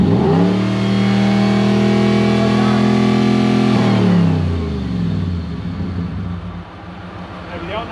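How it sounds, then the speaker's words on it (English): A Land Cruiser BJ40's 1UZ V8 engine revs up and holds a high, steady whine, then the revs drop away and it settles to a lower idle. "Bring the revs up."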